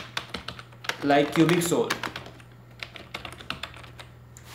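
Quick clicking keystrokes on a computer keyboard patter in uneven bursts while a person talks briefly over the typing.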